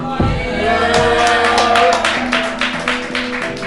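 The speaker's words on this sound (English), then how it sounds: "you gotta clap for me like that too" An audience claps together at a poetry show, a dense burst of close applause that gradually thins into scattered, spaced-out claps with some crowd noise underneath.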